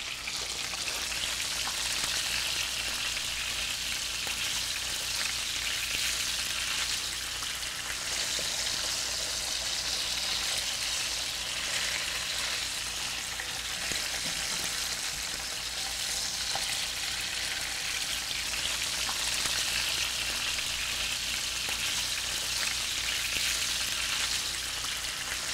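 Salmon fillet searing skin-side down in a hot pan until crispy; a loud, unbroken hiss of frying spits and crackles continuously from start to finish, close and dense, with no voices over it.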